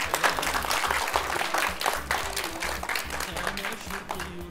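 A studio audience on a children's television show claps steadily and densely throughout, a continuous patter of many hands with faint voices mixed in.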